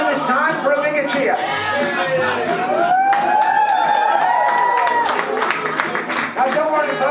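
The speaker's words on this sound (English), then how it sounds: "Hopefully this time for a bigger cheer." A cabaret show audience cheers, claps and whoops together in a loud, dense, continuous swell that fills the room.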